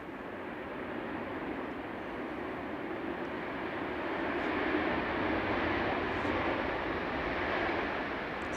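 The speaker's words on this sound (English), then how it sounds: "This is Ryanair coming in from Brussels. EIEKP flight 3239, 737-800." Ryanair Boeing 737-800 arriving from Brussels at Manchester Airport, a steady broadband jet roar that swells slightly midway and holds on, moderately distant, with no talk.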